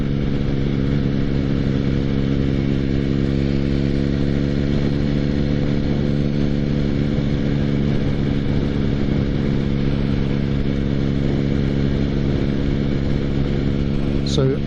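Motorcycle engine on a road ride, a steady mid-pitched drone holding one gear through the whole stretch, close and continuous with no talk.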